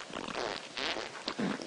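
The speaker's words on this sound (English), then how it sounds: "who's making farting noises up here?" Farting noises in Conker's Bad Fur Day, in the Bee Happy level: a short run of raspy, sputtering bursts, close and fairly loud, lasting under two seconds.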